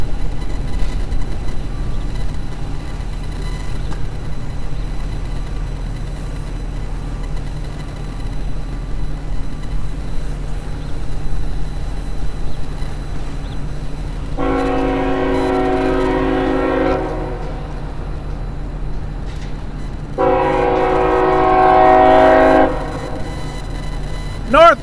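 A northbound CSX freight train rolls through a three-railroad junction with a steady low rumble, then sounds two long horn blasts in the second half, the second louder and nearer.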